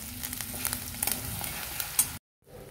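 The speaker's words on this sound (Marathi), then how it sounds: "आता आपलं आलं लसूण खोबरं परतून झालेलं आहे" Ground ginger, garlic and coconut paste fries with curry leaves and turmeric in a pan, giving a soft steady sizzle with stirring scrapes before an abrupt cut to quiet.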